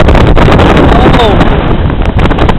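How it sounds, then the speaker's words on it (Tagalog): Strong wind buffets the microphone on a mountain summit, a loud steady roar with gusty rumble throughout and a voice faintly underneath. "super windy"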